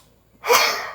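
A single sharp sneeze bursts out close by after a moment of quiet, loud and breathy, trailing off over about half a second.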